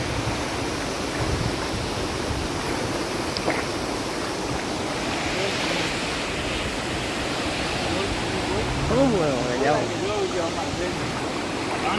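Water rushes at a dam and floods over a village road, a steady broadband roar that fills the whole scene, with faint voices now and then.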